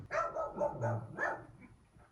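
A dog barks close by in a quick series of about five loud, tonal barks, then trails off into a softer yelp.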